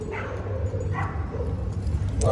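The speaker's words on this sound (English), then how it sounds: "Yeah, the dogs saw us. The dogs are holding down their territory." A few short dog barks from some distance, spaced apart over a low outdoor rumble in downtown Sacramento, California.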